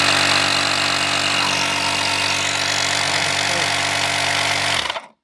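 A Povasee portable jump starter with a built-in air compressor runs with a loud, steady, harsh mechanical buzz close by for about five seconds, then cuts off abruptly.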